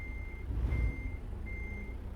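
In American Truck Simulator, a truck backing up with a trailer sounds a repeated electronic reversing beep over a low diesel engine rumble, close and steady.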